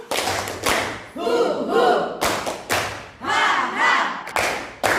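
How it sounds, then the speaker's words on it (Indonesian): A class performs a spirited tepuk semangat clapping routine: loud, rhythmic group claps and thumps alternate with energetic chanted voices in a lively, close-up burst. "Tepuk semangat."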